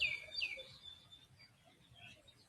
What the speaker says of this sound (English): Can you hear the sound of the birds?